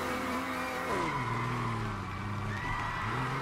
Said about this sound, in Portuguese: Tentar colocar uma segunda no burnout